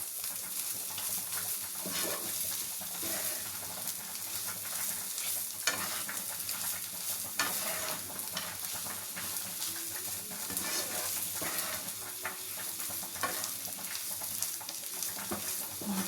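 Steady stirring of a paneer cutlet mixture in a hot pan, with a continuous soft scraping and light sizzling at a close, even level throughout.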